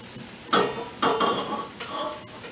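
Vegetables on a griddle, with sharp scraping and stirring strokes of a utensil at about half-second and one-second marks over a soft sizzle, close and without talk.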